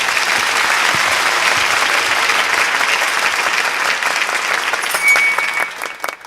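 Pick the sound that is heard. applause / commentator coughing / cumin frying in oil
applause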